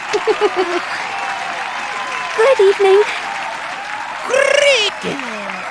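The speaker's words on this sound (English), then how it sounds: "Clap harder. I'm clapping as hard as I can." Audience applause in the Detective Pikachu video game, a short burst of clapping at a staged show mixed with game voices and chiming sound effects, with people talking over it.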